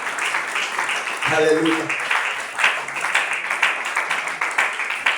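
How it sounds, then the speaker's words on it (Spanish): A church congregation, at a prison evangelism service, applauds together in a sustained, fairly close wash of clapping, while a voice calls out briefly over the start. "Denle ese aplauso al Señor."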